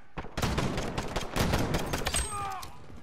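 Dense, loud bursts of automatic gunfire crackle through a Call of Duty: Modern Warfare match, overlapping shots packed close together, with a few brief tonal game effects near the end.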